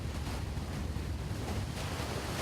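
Ocean waves rushing steadily against the Long Island coast by the Atlantic, a loud continuous wash of surf mixed with wind buffeting the microphone, with no other sounds.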